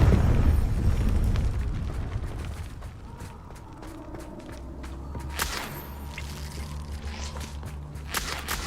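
A Confringo fire-spell explosion in the video game Hogwarts Legacy opens with a loud, deep boom. A fading rumble follows, then quieter scattered thuds, footsteps and a low humming tone.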